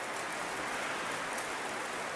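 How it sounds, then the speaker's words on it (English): Heavy rain pouring down outside a room, a dense, steady hiss of drops with no breaks, even in level and heard alone without talk. "It's raining really hard."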